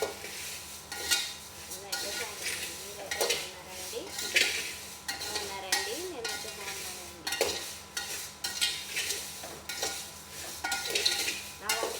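Food frying in a pan with a spoon stirring and scraping against the metal, steady sizzle underneath and repeated clinks throughout, close and moderately loud with no talking.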